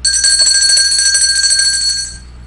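An electric bell rings loudly and continuously for about two seconds with a bright metallic buzzing ring, then cuts off abruptly.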